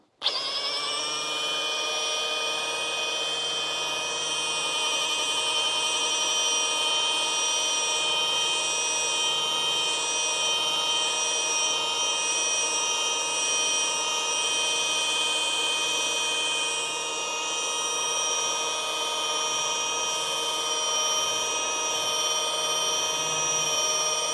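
Steady, continuous high-pitched whine of a polishing machine running at 1200 RPM, buffing and flattening damaged car clear coat to remove hologramming and buffer trails, loud and unbroken with no talk.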